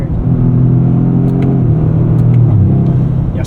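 A 2025 Toyota GR Corolla with an 8-speed automatic in sport mode accelerates on a highway exit ramp, its loud, steady engine drone rising in pitch and then dropping as a quick upshift lands, with no talk over it.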